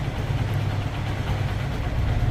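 Low, steady idle of a 2018 Honda CB Trigger motorcycle engine running nearby, an even throbbing hum with no revving and no voices.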